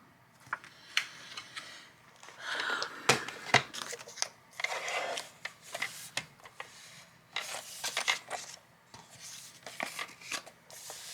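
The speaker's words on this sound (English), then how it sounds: "I think I'm going to cut this off." Scissors snip through paper overprint for a journal page in a paper craft session, making soft, close crisp cuts and rustles in uneven bursts at low volume, with no voices.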